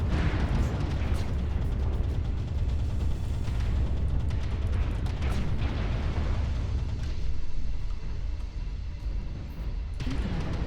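Inbound missiles hit a Hellbringer mech in MechWarrior Online combat, setting off a loud, continuous low rumble of explosions with repeated booming bursts and no speech over it.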